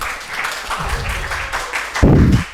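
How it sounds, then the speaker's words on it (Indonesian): Applause from an audience at an on-the-job training session on artificial intelligence, with steady clapping that swells loudest near the end and a few scattered voices underneath. "Tepuk tangan buat Ijan dulu dong"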